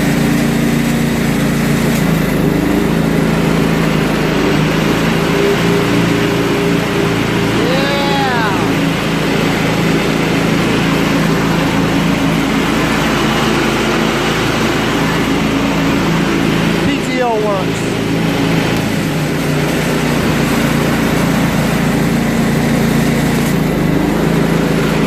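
Steady, loud drone of a John Deere STX46 riding lawn tractor engine running nearby, a constant mechanical hum through the whole stretch with brief chirps over it.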